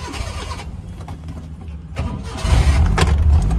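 An old used car's engine turns over and catches, the rumble growing louder and settling into a steady, close running sound.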